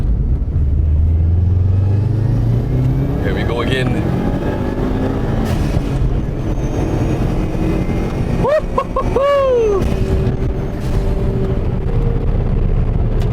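Subaru WRX STI turbo engine accelerating through the gears, a loud continuous rumble near the microphone with a rising whine midway, under someone talking.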